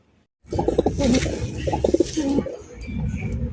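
Pigeons, a German shield and cross-bred collection in a loft, coo continuously and close by, a dense rolling murmur of overlapping calls that starts abruptly after a brief silence and holds steady.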